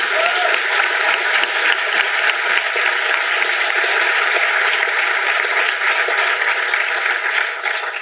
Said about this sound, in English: if you could please give our volunteers a big round of applause